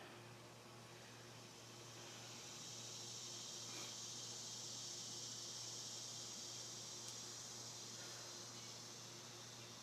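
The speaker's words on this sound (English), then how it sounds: "Hear that noise? Are those cicadas?" Cicadas buzz outside in a garden as a steady, faint high-pitched drone that holds throughout, over a low constant hum.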